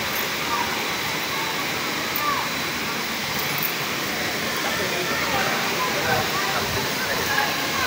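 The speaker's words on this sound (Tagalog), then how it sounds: "So ayan po yung falls, no." Balagbag Falls, a seven-layer waterfall in Real, Quezon, where people are swimming; a steady, dense roar of rushing water fills the whole stretch without pause.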